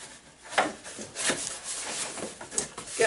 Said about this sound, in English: Gonna have to sharpen the old fishing knife.